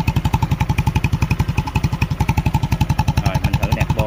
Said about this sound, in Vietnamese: nổ máy lên để cho anh em nghe thử cái tiếng bô nha